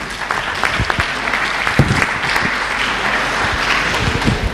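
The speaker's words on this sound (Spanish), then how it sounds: "Un aplauso para ellos" Applause from an audience at the presentation of the seventh Under-17 World Club Football Championship, a dense, continuous round of clapping with no voices over it.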